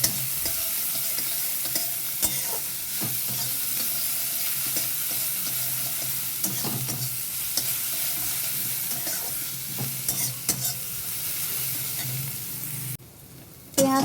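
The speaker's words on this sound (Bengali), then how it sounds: "পেঁয়াজটা আমার বেশ লাল লাল করে ভাজা হয়ে গেছে।" Onions with a pinch of salt sizzle steadily in hot oil in a pan while being stirred, with scraping strokes breaking through a continuous close frying hiss that drops away briefly near the end.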